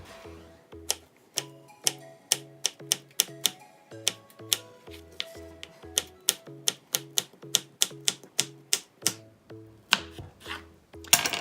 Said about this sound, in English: I'm gonna go ahead and now slice it up into thinner slices